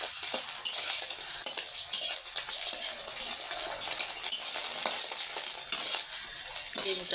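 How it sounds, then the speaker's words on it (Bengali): Eggs frying in a pan while being stirred, a constant close sizzle with scraping and clinking of a utensil against the pan at irregular moments, no talking. "ডিমটা ভাজছি"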